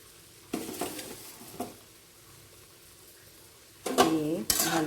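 Ridge gourd curry with grated coconut is stirred in a pan, heard as a few short scraping stirs over a quiet background, then a louder, busier burst of scraping and sizzling near the end.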